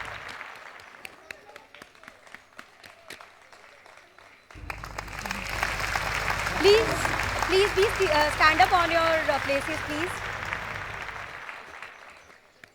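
Applause from the audience at the Navyug School Peshwa Road alumni meet swells in partway through, sustained clapping with a low rumble under someone speaking over a microphone, following quieter talk with scattered claps at the start.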